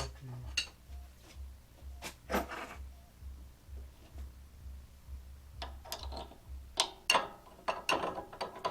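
A wrench works loose a threaded shaft setup for making gears, with sparse close metallic clicks and clanks separated by quiet pauses.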